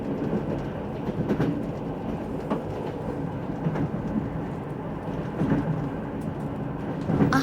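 A train in the video game Secret Files Tunguska rumbles steadily along, with rhythmic clickety-clack beats of the wheels over the rails under a continuous low roar and no speech.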